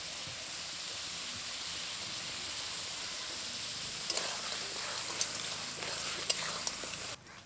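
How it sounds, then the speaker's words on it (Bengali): A spatula stirs crab curry with potatoes, spices and yogurt in a pan, over a soft steady sizzle, with a few light scraping taps near the end before it cuts off. "দই দেওয়ার পরে কিছুক্ষণ নেড়ে নিয়েছি।"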